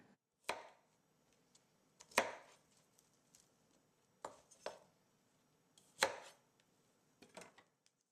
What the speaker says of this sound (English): just by cutting into the stem and then pulling them apart